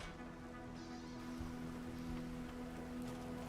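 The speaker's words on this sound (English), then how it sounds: "It's raining." Steady rain falling in the survival-crafting video game Planet Crafter, a continuous even hiss with a low sustained tone underneath, no voices.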